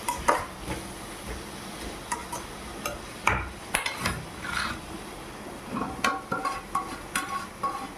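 Drumstick pieces tumble into a pan of softened tomato curry with salt, giving irregular clinks, knocks and stirring scrapes over a low sizzle, close by and without talk.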